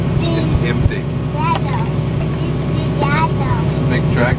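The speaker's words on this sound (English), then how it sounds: "This is a new tractor." A new farm tractor's engine runs steadily and loudly close by, a constant low droning rumble under intermittent voices of people talking nearby.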